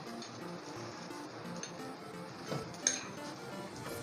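A rolled paratha for a Kolkata egg roll being flipped on a hot tawa, with a soft clink of utensil on metal over a steady background sizzle and hiss, close by and without talk.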